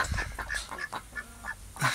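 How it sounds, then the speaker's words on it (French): A pair of domestic ducks quack and honk in a quick run of short calls. They sound fairly close over a soft outdoor background. "Les canards sont toujours là."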